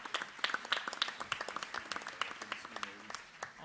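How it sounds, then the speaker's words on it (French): Audience applause at a conference on associations and foundations, a brief burst of fairly faint, steady clapping from a modest room of people. "On peut l'applaudir"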